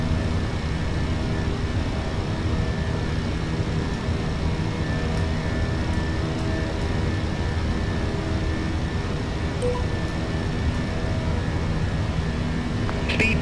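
British Airways airliner climbing out after departure from Munich, heard from inside as a steady, loud, unbroken engine and airflow roar with a faint tonal hum.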